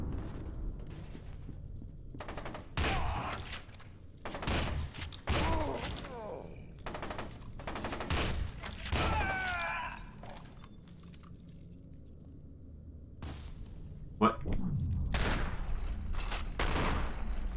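A combat shotgun in F.E.A.R. 2 fires repeatedly, each loud, close blast separated by short gaps, with several shots in quick succession and brief quieter stretches between bursts of combat noise.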